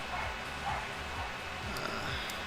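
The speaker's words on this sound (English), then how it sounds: "Sorry if y'all hear that dog barking." A neighbour's dog barks repeatedly in the background, faint and distant, with a series of short yelps over steady room noise.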